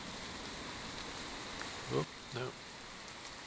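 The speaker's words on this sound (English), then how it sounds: "Here comes the rain again." Rain patters steadily in the survival game The Infected, a soft, even hiss that runs the whole time. A voice briefly speaks over it twice.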